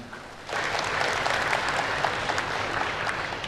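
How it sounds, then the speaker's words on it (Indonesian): A crowd breaks into steady applause after a brief quiet start, dense clapping continuing evenly to the end. "Haryono Suyono, Ketua Yayasan Dam Mandiri, tepuk tangan untuk beliau semuanya"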